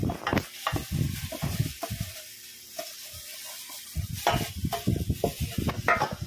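Banana cake batter being mixed by hand with a wire whisk in a mixing bowl, giving close, rhythmic bursts of wet stirring and scraping with a short pause midway.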